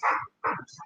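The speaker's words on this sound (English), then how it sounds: "I have to put Blue out when he barked at me" A dog barks twice in quick succession, loud and close, with a brief trailing sound after.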